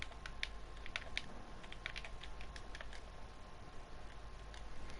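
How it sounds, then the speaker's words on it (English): Rapid typing on a computer keyboard during an esports match, a quick irregular stream of light clicks and ticks, faint and close, with no talk over it. "Look at his crazy typing speed."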